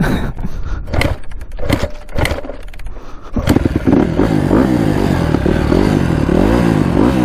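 A Honda CRF250R dirt bike with no working front brake sputters and catches after a few uneven cranking bursts, then settles into a loud, steady, close-up idle with a rough, clattering engine note.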